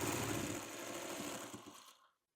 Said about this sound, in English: I'm gonna get one stitch down from on the other side of the seam